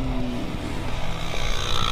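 A group of standard motorcycles on a ride toward Bromo pulls away together, a dense, continuous engine roar with rising revs that stays loud and close throughout.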